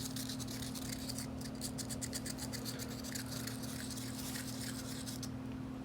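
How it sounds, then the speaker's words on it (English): Sandpaper wrapped around a marker scrubs paint off small magnets, quick rhythmic rasping strokes in short bursts over a steady low hum. "So I wrapped some sandpaper around this marker."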